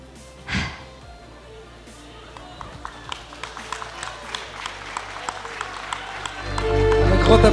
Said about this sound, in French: Un grand applaudissement pour Hajer